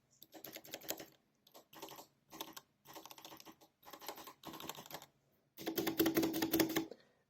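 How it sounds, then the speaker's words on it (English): Fast clacking bursts of keystrokes on a mechanical keyboard with brown switches come in short separated runs, close and fairly quiet, with a denser final flurry and no talking. "It's a mechanical keyboard, brown switches, and it's really good."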